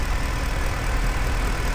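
A Mercedes C63 AMG 507 with its 6.2 litre M156 V8 idles close up, giving a loud, steady, deep rumble with a dense even texture and no break or rev change over the short stretch.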